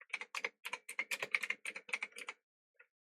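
Rapid bursts of keystrokes clatter on a computer keyboard, dense and steady for about two and a half seconds, then one last isolated tap after a short pause; close and clear with no voices.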